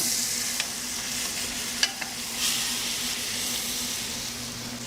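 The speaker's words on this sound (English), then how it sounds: "you can actually do some searing too" Brisket searing in a pan in its own rendered fat, a steady low sizzle and frying hiss running throughout with a few faint clicks and small bumps, heard alone with no talk.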